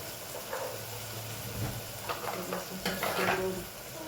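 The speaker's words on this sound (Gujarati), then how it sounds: "સરસ મિક્સ કરી લઈએ" Food being stirred and mixed in a pan: soft, close scraping strokes over a low, continuous sizzle, growing a little busier toward the end.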